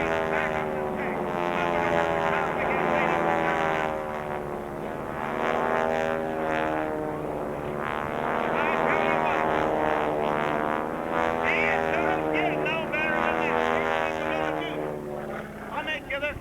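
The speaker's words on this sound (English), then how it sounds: "That's what barnstorming was. That's what the biplane does." A biplane performing aerobatics at an air show drones with a wavering propeller engine whose pitch rises and falls as it passes, heard continuously beneath a loud announcer talking over a public address.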